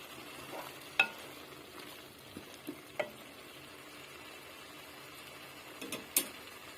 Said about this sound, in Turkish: Şöyle azıcık kavrulsun.